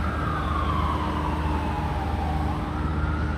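An ambulance siren wails steadily and loudly in downtown San Diego, its pitch sliding slowly downward as it passes near, over a low rumble of traffic.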